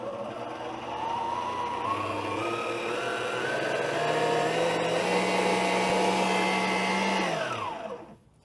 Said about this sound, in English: I'm going to mix it until it's totally incorporated